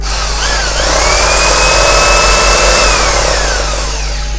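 An electric hammer drill runs steadily at full speed, a loud continuous high motor whine with a buzzing hum underneath, close up and with no talk over it.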